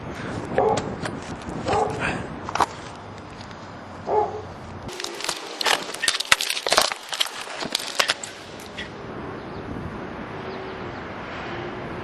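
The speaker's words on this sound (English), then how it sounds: "the dog's barking is a little bit tedious for me" A dog barks outdoors in a few scattered bursts, loud and close at moments, over steady background noise with clattering sounds in the middle stretch.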